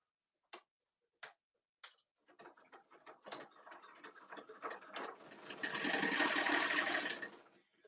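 A sewing machine stitches a boxy bag, starting with a few isolated clicks of the needle, then slow uneven ticking stitches that speed up into a loud, steady whirring run before slowing and stopping.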